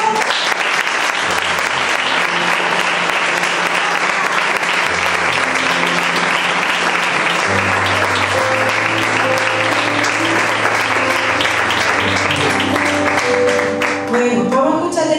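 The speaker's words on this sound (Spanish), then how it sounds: "vamos a darle un aplauso" Sustained applause for Amanda, a 16-year-old at her baptism service, fills the room steadily from start to finish, with low sustained organ or keyboard tones underneath.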